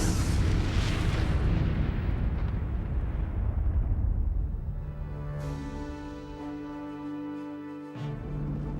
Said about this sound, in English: At the command throttle up, the fuel ignites, and the main rocket explodes.